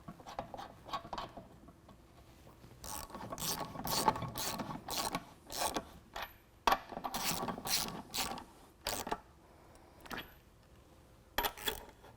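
A ratchet reinstalls lug nuts on a Rugged Ridge HD rear bumper fitted to a Jeep JL, heard as several short, fairly quiet bursts of ratcheting clicks with pauses between them.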